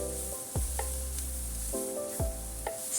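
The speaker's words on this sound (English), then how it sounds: "We do stir fry." Cabbage is stir-fried in a wok, with a continuous hiss of sizzling and a few sharp scrapes and clanks of the spatula against the metal, over a steady low hum, without speech.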